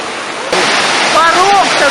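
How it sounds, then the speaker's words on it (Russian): Clear cold river rapids near a waterfall at Mezmay rush in a loud, continuous broadband roar, with a voice speaking briefly over the water. "Как у нас в Карелии пороги, здесь такой порог."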